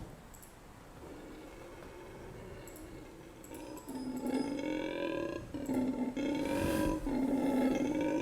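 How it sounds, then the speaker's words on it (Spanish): A howler monkey's deep, sustained roaring howls rise and swell over a continuous low rumble, growing louder and more layered toward the end, with no talking. "esto es un mono aullador haciendo lo que mejor sabe hacer"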